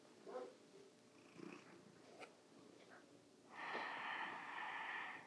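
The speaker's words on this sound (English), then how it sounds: "I have a cat here" A cat purrs close by in a quiet room, faint rhythmic rumbling with snorting breaths, then a louder, breathier stretch of purring toward the end.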